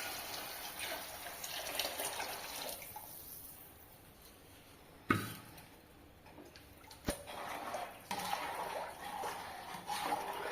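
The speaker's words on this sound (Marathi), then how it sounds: "थोडीशी वाफ दिल्यानंतर आपण त्याच्यामध्ये गरम पाणी टाकायचं आहे" Hot water pours and splashes into a spicy Kolhapuri misal curry cooking in a large party-sized batch, with close, soft liquid rushing and a few sharp clatters.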